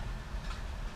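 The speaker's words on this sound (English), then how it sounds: "The sound you hear in the background is there's a tractor over in the other field." A tractor working in a distant field makes a faint, low, rumbling drone with a slight rhythmic clatter, heard steadily in the background with no talking.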